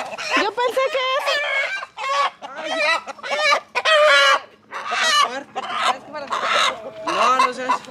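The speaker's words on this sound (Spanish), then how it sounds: "Sí, el pollito está chiquito." Chickens cluck and a rooster crows loudly and close by, in a dense, nearly continuous run of overlapping calls on a farm.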